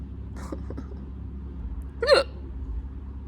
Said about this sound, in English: I've also got the hiccups, which is making me so angry.